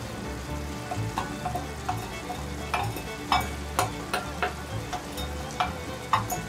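Chopped leek sizzles and crackles in hot oil as it goes into a turkey curry pot at a grill party, steady frying with repeated stirring scrapes and clinks, close and moderately loud, no talking.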